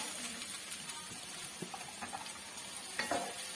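Two large onions sliced lengthwise sautéing in a pan for soya curry, a steady low sizzle with soft stirring scrapes and a brief louder clatter near the end, close by.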